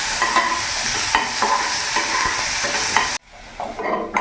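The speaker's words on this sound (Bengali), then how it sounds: "ভালো করে ভেজে নেব।" Finely chopped onion sizzles steadily in a hot pan for about three seconds, with a few stirring scrapes, then the sizzle drops away abruptly and returns more faintly near the end.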